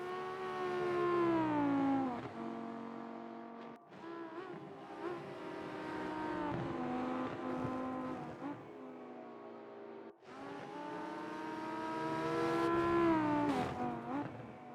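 Several GT3 race car engines scream on the Nordschleife in the RENNSPORT sim racing game, rising and falling in pitch as they rev, with a brief dip between bursts and loud, close engine tones throughout.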